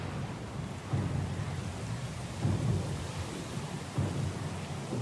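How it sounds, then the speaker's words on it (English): Thunderstorm at sea in the video game Pillars of Eternity II: steady heavy rain and wind with low rumbles of thunder swelling three times, no talk. "Lost and alone in the storm?"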